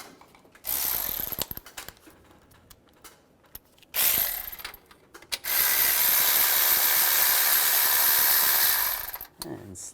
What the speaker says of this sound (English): Use a 15mm socket. Loosen up the bolt.